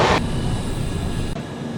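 Kolkata–Sairang train travelling at speed, a steady close rumble and rail roar with a brief bright hiss at the start and a slight shift in tone near the end, no voices present.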